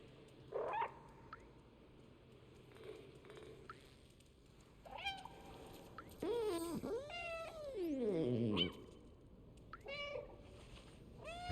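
A cat in the video game Stray gives a run of meows, short chirps first, then long, drawn-out wailing calls that swoop up and down, close and fairly loud against a quiet background.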